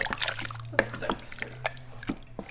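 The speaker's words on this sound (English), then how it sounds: "even though it has a simmer setting, it doesn't simmer, it is boiling away" Soup boiling hard in an Instant Pot set to simmer, with irregular close bubbling pops and drips over a steady low hum.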